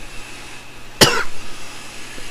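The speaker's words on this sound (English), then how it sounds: "I gotta stop coughing." A single sharp cough bursts out loud and close during a Halo: Reach online match, standing out against quiet background hum.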